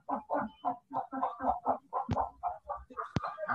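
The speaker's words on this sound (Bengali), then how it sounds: "মুরগির শব্দ আসতেছে তো একটু মিউট করো" A chicken clucking close by in a quick run of short rhythmic clucks, with a couple of sharp clicks mixed in, coming through during an online lecture call.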